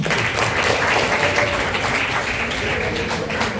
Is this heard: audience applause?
yes